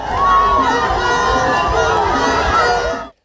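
A large crowd welcomes Robert Kyagulanyi, the NUP candidate, at a rally in Kyenjojo town, Tooro. There is a loud, steady hubbub of many voices with cheering woven through, continuous for about three seconds before it cuts off.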